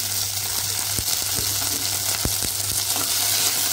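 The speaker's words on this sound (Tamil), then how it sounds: "கொஞ்சம் வெங்காயத்தை நல்லா வதக்கிக்கலாம்." Onions, curry leaves and garlic sizzle steadily in hot oil for a fish kuzhambu, a close, continuous hiss broken by a few sharp spoon scrapes against the pan.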